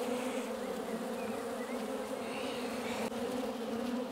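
A wild-caught honeybee colony in an urban garden hive hums with a steady, dense, close buzz that holds evenly throughout, with no talk.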